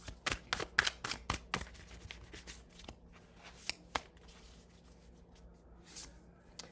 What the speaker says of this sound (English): Let's go ahead and just pull 3 oracle cards for my collective.